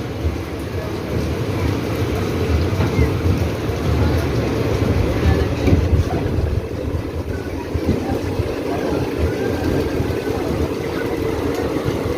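Digha Asansol Express, a passenger train with reservation coaches, running with a continuous loud low rumble and rattle from onboard, steady throughout with no break.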